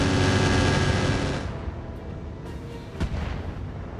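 Heavy ammunition explosion in a mech combat video game, a loud roaring boom that rumbles and slowly fades, followed by a sharper crack and softer distant rumbles.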